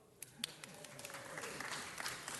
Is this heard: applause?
yes